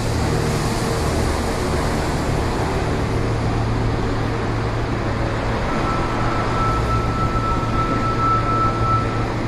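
Continuous low rumbling of an Osaka Metro Midosuji Line subway train pulling away, steady and loud, with a faint rising whine of the motor joining partway through.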